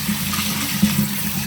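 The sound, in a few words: water rinsing a cleaned deer skull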